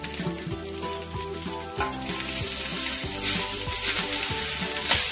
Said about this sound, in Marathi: मस्त एक करून घ्यायचा, छान प्रकारे परतून घ्यायचा एक व्यवस्थित एकदम।